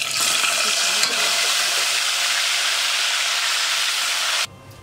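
Chicken frying in oil for a stew, a loud, close and continuous hissing sizzle that holds steady before cutting off abruptly near the end.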